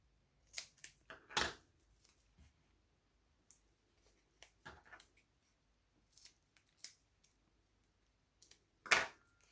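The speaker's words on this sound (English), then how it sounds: "So we'll just cut a tiny piece for each one." Small paper sentiment pieces snipped with scissors for an Easter egg treat box: sparse, quiet, close cuts and light clicks spaced irregularly over a near-silent background.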